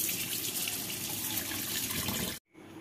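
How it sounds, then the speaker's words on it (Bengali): Tap water running loud and steady at a sink while fish is washed to clear the scales, cutting off abruptly near the end. "মাছ ধোয়া দা এন্ড হয়ে গেল"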